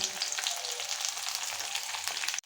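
Chopped garlic and onion fry in hot oil with a constant bright sizzle, close and even, cutting off sharply at the end.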